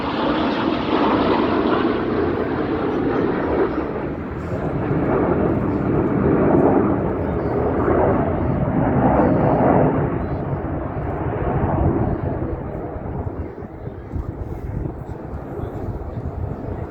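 Red Arrows aerobatic display jets roar overhead at RAF Cosford, a loud sustained rushing engine drone that swells and fades, with a commentator talking over it.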